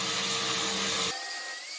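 Grinder rounding off protruding frame points on an old trailer, a loud steady abrasive whine that cuts off abruptly, leaving a thinner tone behind.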